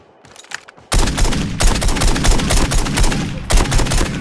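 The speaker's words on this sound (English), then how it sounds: "I'm getting shot" Rapid video-game gunfire erupts after a brief quiet start, a loud sustained fusillade of overlapping shots aimed at the player that pauses briefly before resuming.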